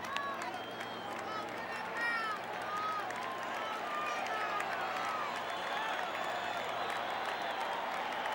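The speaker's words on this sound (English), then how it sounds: "Shea Crowd, as is customary with 2 strikes, and particularly customary with Dwight Gooden, looking for the strikeout" A 1988 Shea Stadium baseball crowd roars and claps steadily for a Dwight Gooden strikeout against the Dodgers, a distant sustained cheer with scattered whistles beneath a broadcaster's commentary.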